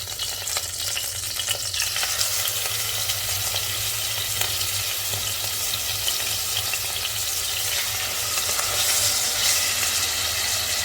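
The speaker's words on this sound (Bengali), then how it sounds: "লক্ষ্য রাখবেন চিকেনটা ওভার কুক করা যাবে না, আর মিডিয়াম ফ্লেমে ভাজতে হবে।" Marinated chicken frying in soybean oil over a medium flame, a steady crackling sizzle with occasional stirring clatter, close and continuous with no talking.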